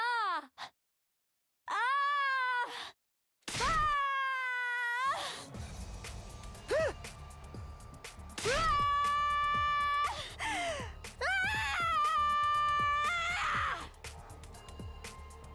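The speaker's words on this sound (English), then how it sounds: "After her sudden outburst of screaming" Shrill, wavering high-pitched wails and screeches from the game character Ava, rising and falling in several long bursts separated by brief silences, over a low rumbling background.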